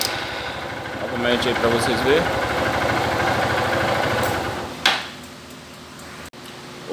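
A motorcycle engine with a charging fault idles with a steady low rumble while someone talks over it, then the engine sound drops away near the end.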